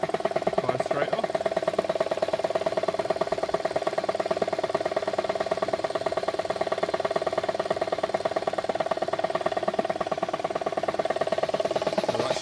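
A Motivair air compressor running, a steady close mechanical drone with rapid rhythmic pulsing and a constant mid-pitched hum throughout.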